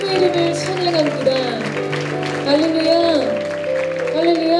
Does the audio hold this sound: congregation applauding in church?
yes